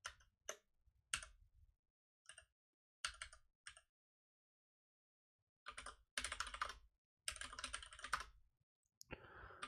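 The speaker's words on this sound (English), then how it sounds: "I just cannot type today for the life of me." Bursts of typing on a computer keyboard, rapid clicking keystrokes in uneven clusters separated by pauses, close and clear with no talking.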